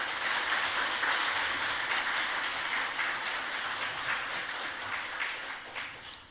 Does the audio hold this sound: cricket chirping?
no